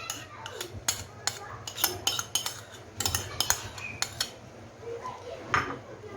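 Yogurt, mayonnaise and spices being mixed in a bowl, with a spoon clinking and tapping against the sides in quick irregular strokes over a low background hum, fairly quiet and close.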